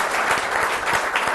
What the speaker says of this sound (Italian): Un applauso a Ruggero.